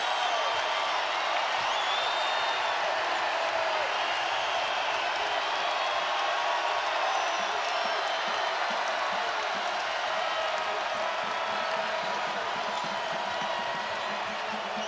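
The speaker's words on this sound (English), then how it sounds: "everybody's standing here in Spokane cheering on their Zags" Arena crowd in Spokane cheering for Gonzaga at a college basketball game against Baylor, a steady dense roar lasting throughout with no clear breaks.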